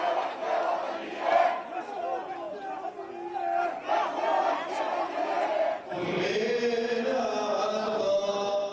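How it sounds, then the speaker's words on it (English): Dense crowd noise fills the narrow streets of Jerusalem's old city at Shireen Abu Akleh's funeral, a steady roar of many voices with shouted cries rising throughout and a louder, more tonal chanting swell near the end. "Crowds filling the small streets of this ancient city."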